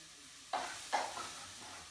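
Garlic drops into a hot pan of sizzling chorizo, giving two quick bursts of frying hiss that settle into a low, steady sizzle up close.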